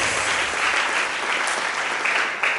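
Congregation clapping at a French-language church service, steady loud applause filling the whole stretch without a voice over it.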